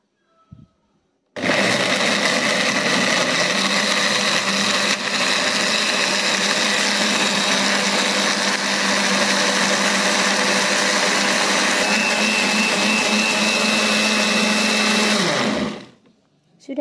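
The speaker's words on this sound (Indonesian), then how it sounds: "kemudian kita akan haluskan dengan cara di blender" An electric blender grinds chopped spices into a paste for a spicy chicken feet dish, a loud steady whirring motor that starts abruptly, runs continuously for about fourteen seconds, then winds down.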